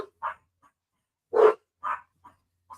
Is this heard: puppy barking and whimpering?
yes